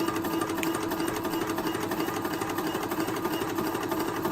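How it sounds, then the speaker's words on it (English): A Crossfire instrument air compressor runs steadily, close and loud, with a constant mechanical hum and rattle and no talking. "What we want to do is get up to the point at which the compressor starts to modulate."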